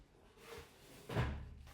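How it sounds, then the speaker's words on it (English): A set of drawers is opened to reach for tissue, giving a soft sliding rumble followed by a dull wooden thunk, quiet and close in an indoor room, with no talking. "I'm going to just open a set of drawers to get some tissue out"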